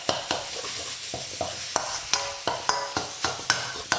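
Banh mi meat mix is seared in a hot wok and chopped with a utensil, producing a steady sizzle broken by regular sharp scraping taps about every third of a second.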